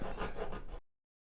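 Hand file rasping down a wooden nub on a guitar, a short run of four or five quick rhythmic scraping strokes close to the mic, then silence.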